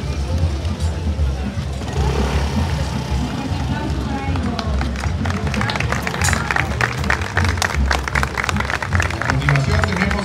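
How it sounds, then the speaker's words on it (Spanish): Outdoor crowd at a Guadalupe parade in Wichita, Kansas claps and murmurs amid street noise, with the clapping growing denser midway through. "Un fuerte aplauso para ellos, por favor."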